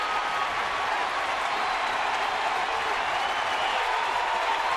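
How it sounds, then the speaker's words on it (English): Sellout baseball crowd at AT&T Park roaring steadily during a perfect game, a dense, continuous wash of cheering and applause with no pauses, loud and enveloping as fans stand for a 1-2 count. "The sellout crowd at AT&T Park now standing with a 1-2 count to Jed Lowry"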